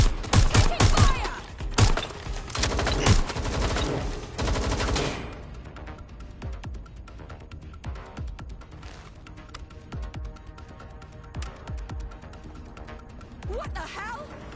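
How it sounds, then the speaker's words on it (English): Gunfire in the Watch Dogs Legion video game, dense rapid bursts of automatic shots, loud at first, then sparser shots and thuds under shouting voices. "Taking fire!"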